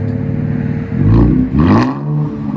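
Infiniti Q60 3.0L twin-turbo V6 with straight-pipe true dual exhaust revs twice in quick succession, deep burbling blats swelling and falling back to a rumbling idle, close and loud.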